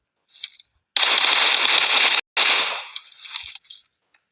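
Automatic gunfire in a battle royale video game: loud, close bursts, including one long sustained stream that breaks briefly and resumes, then trails into scattered shorter shots, with no talking.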